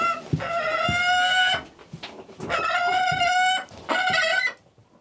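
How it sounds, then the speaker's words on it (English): An Arctic gyrfalcon, the largest falcon, gives three loud, drawn-out harmonic calls in close succession, each lasting over a second, with short pauses between them and no talk. "This is the bird, that Arctic gerfalcon, and this is the largest falcon."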